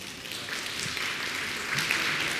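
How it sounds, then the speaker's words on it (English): Audience applause at a parliamentary briefing, a soft but continuous patter of many hands clapping that swells slightly toward the end. "can I ask for a round of applause, please?"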